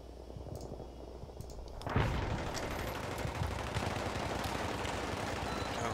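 Battlefield 3 gunfire on Damavand Peak in a team deathmatch starts with sparse clicks, then a loud burst at about two seconds turns into dense, continuous rattling shots that carry on to the end.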